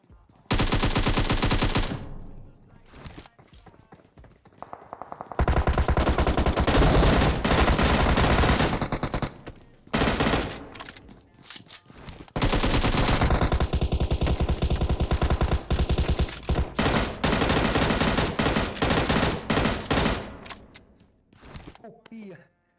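Bursts of automatic gunfire in the video game PUBG Mobile, loud and close, coming in long sustained volleys separated by brief pauses, with a voice talking at times between them.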